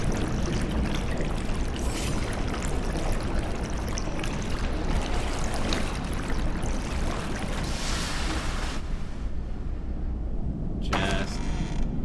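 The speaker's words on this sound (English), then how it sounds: "Come on, sewers, fill up with water." Rushing, pouring water fills sewers in the game Conan Exiles, a dense steady flow with creaking and trickling that runs continuously for about twelve seconds.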